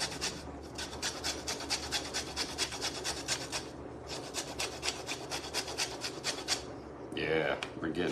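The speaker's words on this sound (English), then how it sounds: "I'm gonna zest some of this lemon in this in my pesto" A lemon being zested over pesto gives rhythmic, close rasping strokes in a quick back-and-forth pattern, pausing briefly once, then breaking into a short burst of different scraping at the end.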